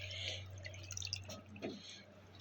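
Water dripping and splashing as raw chicken skin is rinsed by hand in a bowl, with a steady low hum underneath and short irregular trickles and splashes near the microphone, no talking.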